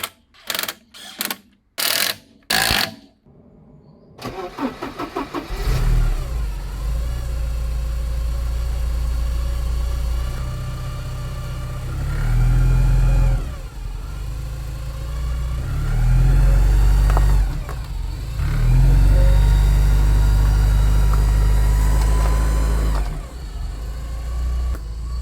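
A Porsche 944 engine cranks and catches after a few sharp bursts, then runs loudly with several revs rising and falling over a steady idle.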